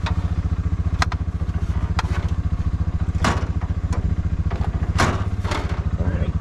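A dirt-track race car engine idles and warms up at the Chili Bowl on a test day, a steady loud throbbing with a few clacks and thumps over it.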